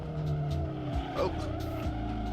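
A race car in Assetto Corsa braking hard into a corner, engine droning loudly while tyres squeal and skid briefly mid-clip.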